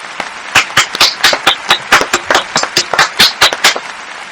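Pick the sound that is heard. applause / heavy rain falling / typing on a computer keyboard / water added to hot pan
applause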